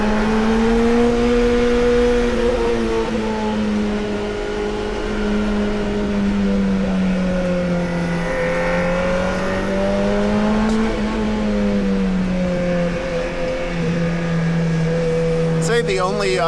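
A Lotus Elise on sticky tyres, with minimal ABS and a near-stock setup, is driven hard. Its engine drones loud and close, the pitch rising and falling through gear changes, while a voice talks over it.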